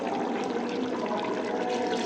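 A glass of water poured into a cooking pot of pumpkin and chana dal makes a steady, close rushing splash that runs evenly for about two seconds with no voices.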